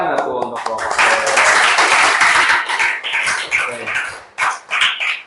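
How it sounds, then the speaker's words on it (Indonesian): Classroom applause for a student group, a burst of dense clapping from many hands for a few seconds that then tapers into scattered claps, with voices talking over it. "tepuk tangan aku untuk kelompok"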